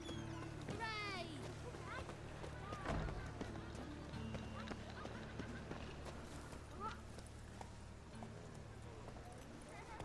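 Roach the horse galloping in The Witcher 3: Wild Hunt, a steady run of hoofbeats under quiet game ambience and faint voice-like sounds throughout.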